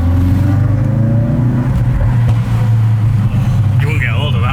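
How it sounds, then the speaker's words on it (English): Loud, close car exhaust rumbling with a deep burbling idle that revs and occasionally coughs, while people talk over it and a brief higher whine rises near the end. "it coughs every now and then and splutters"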